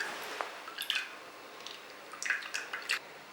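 Blended pumpkin and milk juice being strained, giving soft wet drips and squishy trickles in short scattered bursts, close and quiet with no talking.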